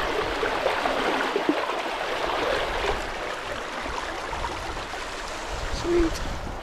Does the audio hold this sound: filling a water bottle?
yes